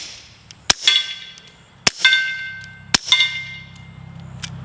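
Three sharp, loud reports from a suppressed Hudson H9 pistol, each followed almost instantly by the ringing clang of a bullet striking a distant steel target, spaced about a second apart over a quiet background.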